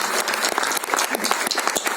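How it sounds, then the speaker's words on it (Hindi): Close, brisk applause from the audience at a Bollywood film trailer launch event, dense individual claps forming a steady burst with no speech. "जोरदार तालियां for ladies and gentleman for his parents who have made it here."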